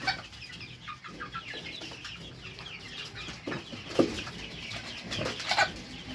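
Egyptian Fayoumi hens and roosters on a farm cluck and chatter softly nearby. Scattered louder squawks and a brief flutter of wings rise above the low, busy flock murmur, with no one speaking.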